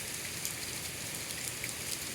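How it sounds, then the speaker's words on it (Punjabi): Heavy rain pours down in a dense, unbroken hiss of countless drops striking surfaces, steady and enveloping, with no voices. "ਮੀਂਹ ਬਹੁਤ ਜ਼ਿਆਦਾ ਪੈ ਰਿਹਾ"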